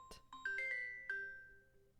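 A mobile phone rings with a bright electronic melody of clear tonal notes, a short tune that rings out and fades, fairly quiet and alone.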